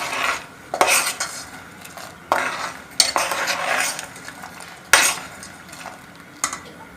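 A utensil stirs palm jaggery into water in a metal pot. The scraping and clinking strokes come in repeated bursts, close and fairly loud, with quieter gaps between them.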